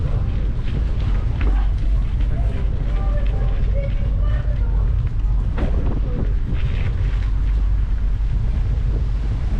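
Strong wind blows outdoors in the city of Poltava, buffeting the microphone with a loud, steady low roar that never lets up, while a voice is faintly present beneath it.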